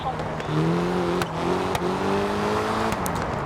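A rally car engine in the Dirt Rally racing game revs and accelerates with a sustained, rising drone, close and loud throughout.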